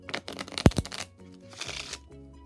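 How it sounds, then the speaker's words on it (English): A deck of playing cards being shuffled, with a quick riffle of crisp flutters and a sharp tap, then a second softer riffle, close and alone. "Give it a couple shuffles"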